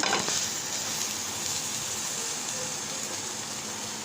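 A flipped paratha sizzles steadily in a hot pan, a close, continuous crackling fry holding level for several seconds with no voices over it.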